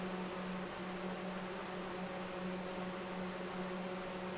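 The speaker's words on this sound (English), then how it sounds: "I have a heater going in the background, so I'm hoping it's not too loud and distracting" A space heater runs steadily indoors, giving a constant, even fan-like hum with a low tonal drone and no breaks or changes.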